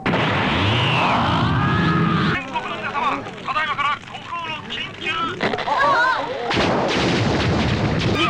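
Lightning strike, explosion and fire in the Dragon Ball GT anime, evil dragon saga: loud, dense crashing blasts and rumbling roar that run continuously and fill the whole stretch.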